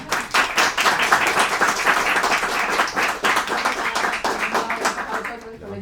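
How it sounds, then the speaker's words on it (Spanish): Dense audience applause for comic artist Teresa Valero at a comics presentation, steady crowded clapping throughout and fading at the end, with voices mixed into the crowd. "un aplauso a Teresa"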